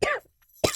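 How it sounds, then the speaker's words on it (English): One person coughs twice, two short, sharp, close bursts separated by a brief silence, with no other sound around them. "I'm known for a good cough."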